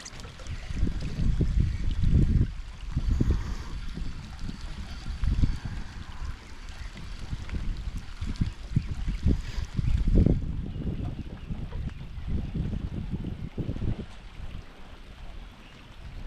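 Rain falls steadily as a dense outdoor hiss while fishing for pike, with gusty wind buffeting the microphone and low rumbling throughout.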